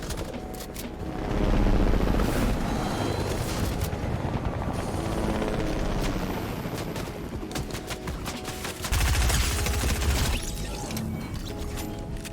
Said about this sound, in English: You'll notice how that fight was all shotgunning.